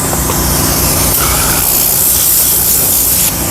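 A Vortex air cleaning tool blasts compressed air across car carpet and upholstery, a loud, steady, broadband hissing spray that runs unbroken for the whole stretch and cuts off sharply near the end.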